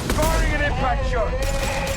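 Impact shot gunfire in Mass Effect Legendary Edition: a rapid burst of heavy shots ringing out, loud and close, with a voice speaking over the battle.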